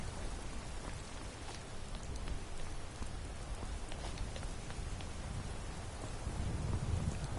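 Steady rain pattering in the video game Skyrim, a dense and even wash of falling drops that continues without a break and without any voices.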